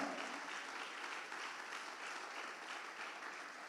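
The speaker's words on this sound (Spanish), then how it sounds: "Denle un aplauso al Señor." Church congregation applauding during a sermon, a steady, dense wash of clapping that stays even throughout, quiet and somewhat distant.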